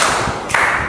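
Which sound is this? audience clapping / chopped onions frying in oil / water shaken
audience clapping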